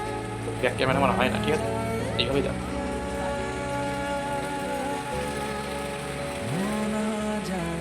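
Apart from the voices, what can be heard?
rain falling outside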